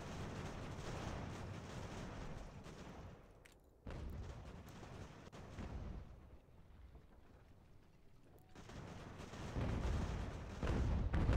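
Artillery and infantry fire in the strategy game Ultimate General: American Revolution: rumbling cannon booms and crackling volleys of musketry roll on continuously at a moderate distance, swelling and easing in waves, with no voices.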